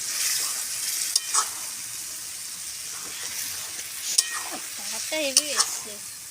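Chicken kosha being stir-fried in a pan, a continuous bright sizzle with a few sharp spatula scrapes and clinks, close up; a brief voice murmurs near the end.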